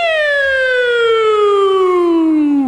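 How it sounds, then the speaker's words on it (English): A police car siren wails in a single long descending tone, loud and close with no other sounds. "They have that nice soothing siren."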